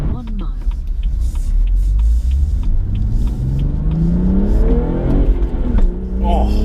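A BMW M240i Coupé with a six-speed manual gearbox accelerates hard from inside the cabin, its engine note rising in pitch through the revs with a gear change partway and a deep rumble underneath.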